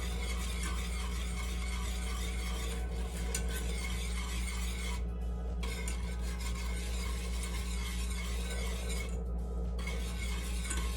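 Sugar being stirred into liquid in a pot while making rock candy, a continuous close scraping and swishing rasp with a few short pauses in the motion.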